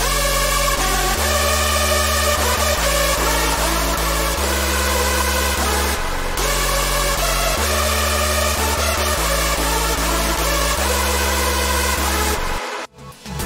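A synth lead layered with a second lead, playing a steady, loud electronic pattern over a pulsing bass for about twelve seconds before cutting off abruptly near the end.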